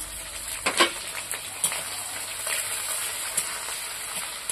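Chopped onions frying in hot oil with whole garam masala and cumin, a steady close sizzle and hiss broken by a few soft stirring scrapes.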